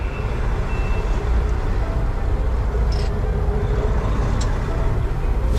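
Concrete truck backing up on a street in Augusta, Georgia, a steady loud diesel engine rumble with faint high reversing beeps sounding at intervals.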